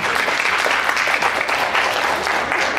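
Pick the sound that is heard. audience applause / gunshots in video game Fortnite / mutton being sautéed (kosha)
audience applause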